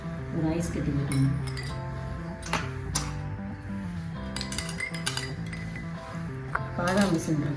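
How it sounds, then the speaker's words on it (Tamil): An ice cube clinks into a glass of nannari sherbet made with country palm sugar, lemon and water, giving a few bright, sharp taps over a steady background of speech and music. "ஒரு ஐஸ் கட்டி போட்டுக்கணும்."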